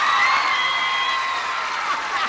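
Studio audience cheering and applauding, a sustained bright wash of whoops and claps at steady volume throughout, crowd noise with no single voice standing out.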